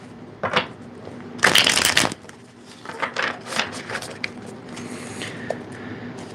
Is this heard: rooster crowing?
no